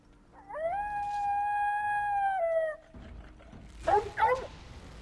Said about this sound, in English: I don't like the sad dog noises.